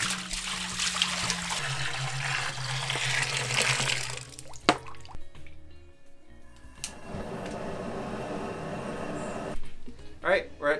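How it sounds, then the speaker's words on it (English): Room-temperature water pours into a home brew kettle already holding hot water, a steady close trickle and splash for the first few seconds, then a clunk and quieter running water with faint background noise. "I'm just gonna add room temp water and then heat it up like I normally would"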